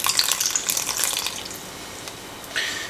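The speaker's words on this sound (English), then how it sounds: "To 140 grams of rye flour, I'm going to add 240 grams of water." Water pours from a container into a bowl of rye flour for potato bread, a splashing trickle that fades out and then briefly resumes near the end.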